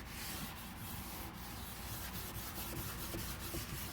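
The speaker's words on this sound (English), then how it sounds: "So I'm going to sand it down just a little bit, or make it smooth before I put the actual paint on it." A scrubber sands a surface smooth before painting on a patio, giving a continuous close abrasive hiss with steady back-and-forth rubbing strokes throughout.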